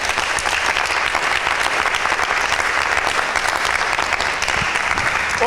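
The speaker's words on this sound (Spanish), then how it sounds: "Fuertes aplausos." Loud, sustained applause from a large audience at a Bible quiz, steady clapping filling the whole stretch without pause.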